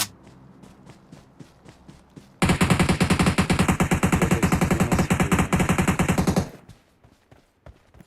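Rapid automatic gunfire in an online shooter game, a dense sustained burst lasting several seconds after quieter footsteps and scattered shots, then cutting off abruptly.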